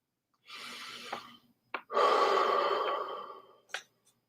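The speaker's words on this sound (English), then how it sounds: "Breathing all the way deep down into the belly." Slow, deep breaths during a guided meditation: a long inhale, a short catch, then a longer exhale and a final brief breath, close and quiet with no talking.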